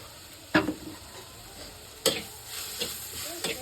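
Meat and onions sautéing in a pan, a quiet low sizzle broken by a few sharp scraping clatters of a spoon against the pan.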